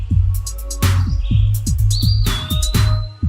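Parrots call in a tropical setting: bright, repeated chirps and a few thin whistles ring out near and loud over a steady, rhythmic low pulsing beat.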